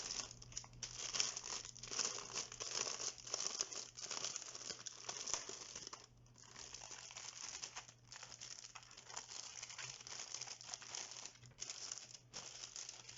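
Crinkling plastic bag being peeled open from around a HyperX Alloy FPS RGB wired keyboard, steady close rustling and crumpling throughout with brief pauses, over a faint constant hum and no talk.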